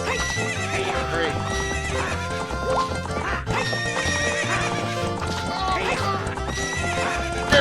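A horse in the Zelda Ocarina of Time video game gallops with steady clip-clop hoofbeats and neighs, under constant loud game music.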